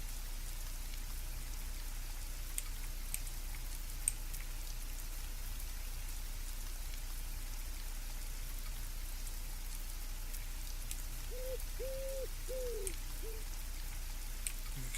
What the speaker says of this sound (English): we have our rain on the roof